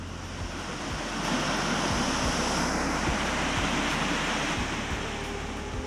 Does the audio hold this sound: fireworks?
no